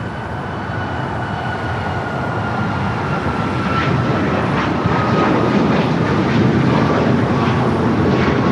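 A Royal Air Maroc airliner departs LAX with a loud, steady jet engine roar that swells gradually as it climbs, broadband rumble with a faint whine on top, no talking.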